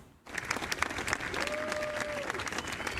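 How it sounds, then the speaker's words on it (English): Crowd at the White House applauding the U.S. President after an executive-order signing, clapping that starts abruptly and holds as a dense, steady patter, with a faint tone gliding through the middle. "U.S. President Donald Trump receiving applause at the White House after signing new executive orders"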